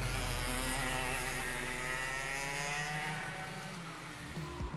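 A race car driven hard around the Top Gear test track gives off a loud, continuous engine roar that holds a steady pitch, then eases slightly near the end.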